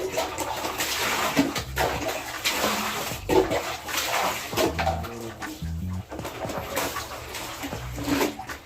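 Water pours into a tub of laundry being washed by hand, a steady splashing flow with sloshing bursts through the middle, fairly close and moderately loud, with no talk.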